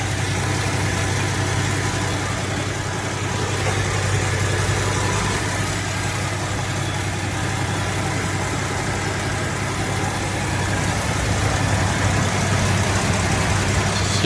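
A 1966 AMC Classic 550 engine idles steadily and evenly, a low continuous rumble with no voices, holding the same level throughout.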